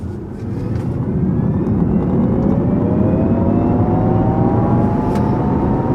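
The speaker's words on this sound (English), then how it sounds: "I can appreciate the Jaguar roar of the completely artificial sound." A Jaguar I-Pace electric car plays its artificial engine sound while driving, a loud, continuous synthetic whir with slowly rising tones that holds steady throughout.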